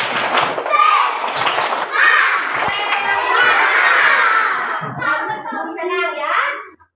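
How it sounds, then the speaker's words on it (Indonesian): Schoolchildren in a classroom do a spirit clap together, a burst of rhythmic group clapping mixed with chanting and loud children's voices, followed by more chatter. "Tepuk semangat."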